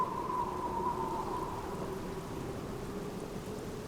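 Steady rain with a low rumble of thunder in the Black Mirror video game, heard at a graveyard monument, a continuous wash of downpour at even loudness throughout with no talking.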